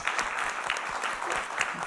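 Audience applause after a presentation at a conference on AI in oncology, a steady dense clapping of many hands throughout, close and alone without talk.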